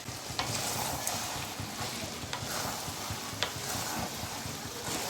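Shrimp and sugar stirred in a hot frying pan for a Bengali mocha dish, giving a steady close sizzle with scraping spoon strokes and a few sharper clinks, no talk.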